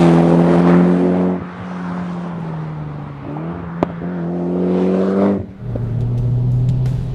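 A tuned Mitsubishi Lancer Evolution X accelerates hard through the gears, engine note rising loud and close, dipping at each quick shift before climbing again, with brief whooshes and chirps between shifts.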